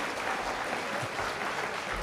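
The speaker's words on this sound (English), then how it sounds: "Please give me a round of applause." A ceremonial handover of the ASEAN-BAC chairship draws steady, fairly soft applause from the audience, an even wash of clapping that runs for about two seconds.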